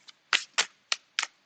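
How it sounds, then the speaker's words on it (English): Waxy, sticky tarot cards being shuffled by hand, five quick riffling bursts at a steady rhythm, close and fairly quiet with short pauses between them. "Waxy cards do not make good shuffling cards"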